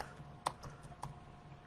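Faint, quiet clicks of keys being typed on a computer keyboard in a room, a few sparse irregular taps over a low background hum.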